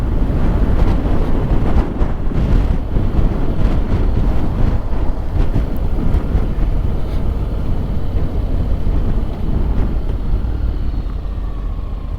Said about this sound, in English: Still windy as all get out.